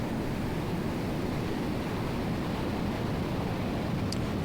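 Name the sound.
high surf ocean waves in Monterey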